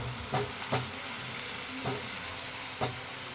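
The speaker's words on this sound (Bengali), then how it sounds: "তো পেঁয়াজটা আমার ভালো করে ভাজা হয়ে গেছে।" Onions frying until browned in a home kitchen pan, a steady close sizzle with four sharp scraping stirs of the spatula spaced through it, no voices.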